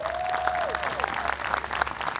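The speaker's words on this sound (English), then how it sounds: "how about a nice round of applause for them" An audience at the Hawaiian Airlines May Day 2022 event applauds its sponsors with steady, dense clapping, while a sustained tone fades out near the start.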